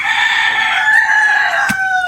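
A rooster crows loudly and close by, one long strained call with a chicken's short cluck near the end.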